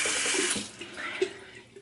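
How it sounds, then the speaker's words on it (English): Running water from a tap splashes into a sink while an edge brush is wetted, a close steady flow with a brief splash partway through. "I'm going to go ahead and get a little bit of water on this as well."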